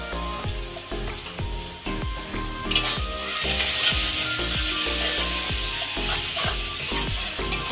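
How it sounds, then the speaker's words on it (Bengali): Onions fry with salt and turmeric in a pan, a steady loud sizzle under repeated scraping and stirring strokes from a spatula, with no talk. "পেঁয়াজগুলো হালকা করে ভেজে নেব।"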